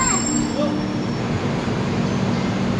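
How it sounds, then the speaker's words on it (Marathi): The Sawantwadi–Diva train arriving at Kankavli railway station, a steady rolling rumble of railway cars with faint metallic squeals and faint voices in the background. "गाडी टायमामध्ये आली आहे."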